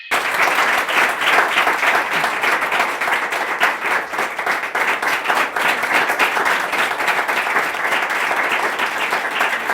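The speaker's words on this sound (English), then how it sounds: "the applause is well deserving of what we've had so far" Loud, sustained applause from a large audience, dense clapping filling the whole stretch without pause.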